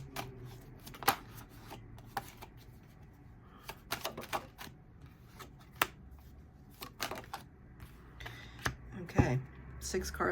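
Tarot cards being shuffled and laid out on a table, with a string of soft flicks, taps and riffling snaps spread irregularly across the clip, close and fairly quiet.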